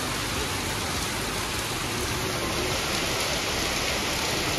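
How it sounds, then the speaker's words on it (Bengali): Heavy rain pours down steadily as a loud, dense, unbroken hiss that fills the whole clip, with no voices heard over it. "হট করে উঠে দেখি ভীষণ বৃষ্টি নেমেছে"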